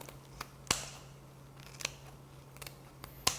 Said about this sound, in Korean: 이렇게 가위로 잘라주시면 돼요